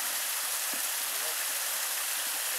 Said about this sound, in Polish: żeby było słychać, jak ten strumyk pięknie szumi tutaj